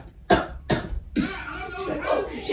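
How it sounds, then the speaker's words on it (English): A woman coughs indoors, two sharp separate coughs followed by a longer rough, throaty cough and throat clearing, fairly close and moderately loud. "You hear her coughing?"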